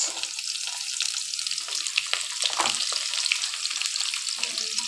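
Sliced onions and slit green chilies fry in oil, giving a steady, close sizzle and crackle with a few brief scraping stirs.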